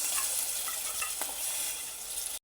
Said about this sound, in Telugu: పచ్చనిపప్పు వేసి ఒక్క 2 నిమిషాలు కలుపుకోవాలండి బాగా.